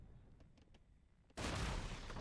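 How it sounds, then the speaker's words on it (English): Sudden loud explosion in a video game that erupts out of quiet background hum and keeps roaring steadily until the end. "And the explosion happens."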